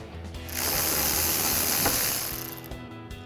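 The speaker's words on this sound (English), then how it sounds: "we'll go ahead and grab our 12mm socket here, and we're going to remove our 2 caliper bolts holding the bracket to the caliper" A ratchet with a 12mm socket loosens the brake caliper bracket bolts on a 1999-2002 Ford Mustang. It gives a rapid, continuous clicking run of about two seconds, close and clear, with no voices.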